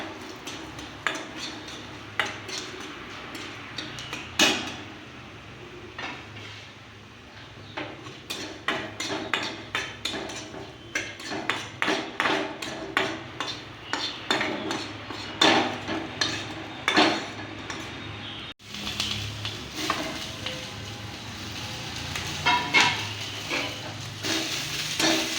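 Coriander seeds are roasted in a pan, with repeated clinking scrapes and taps of a spoon stirring against metal and a faint sizzle underneath, close and fairly loud.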